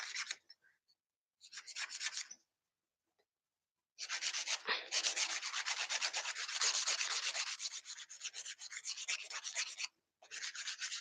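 A glued-on acrylic nail gets filed into a coffin shape by hand, with quiet, rapid rasping strokes in several bursts separated by brief pauses.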